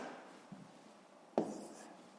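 Pen writing numbers on paper during a fifth-grade math exercise on decimals, heard as a faint scratch followed by a sharper, brief stroke, quiet and close with no talk.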